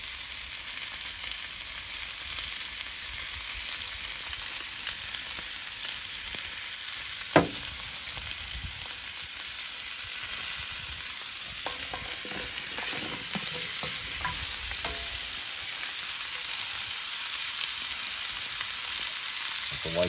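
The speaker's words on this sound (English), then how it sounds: "cut the zucchini, put some oil on it, drop them in. I turn the pork chop." Zucchini slices and a pork chop frying in oil in a pan at a campsite, a steady close crackling sizzle with occasional clinks of stirring and flipping, no talking.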